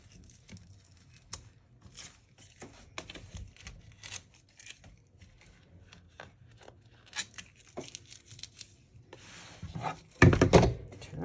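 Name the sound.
peeling tape off a project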